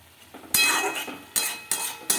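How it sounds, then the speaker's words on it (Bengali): Fenugreek leaves fry in a pan with a light sizzle, broken by several sharp spatula stirs and scrapes against the metal, close and moderately loud, no speech. "মেথি শাক ভাজা হচ্ছে, খুব সুন্দর একটা গন্ধ লাগছে মেথির শাকের"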